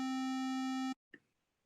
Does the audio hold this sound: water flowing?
no